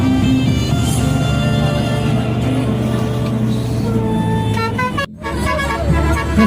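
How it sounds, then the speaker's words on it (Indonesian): An Indonesian bus's musical telolet horn plays a loud, bright tune of changing pitched tones over a rumbling engine, with a brief cutoff near the end before the horn resumes. "Klakson tolalet ternyata fenomenal juga loh guys"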